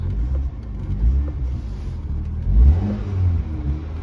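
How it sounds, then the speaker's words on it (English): A Mini Cooper S engine revs with a throaty exhaust note, two or three rising blips over a steady idle rumble, close and fairly loud with no talk. "Hopefully you can hear that exhaust note."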